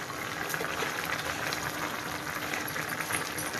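Chicken simmers in water with ground black pepper, cumin, coriander and fennel powder, giving a steady, dense bubbling and sizzling hiss that stays even throughout, close and unbroken, with no talking.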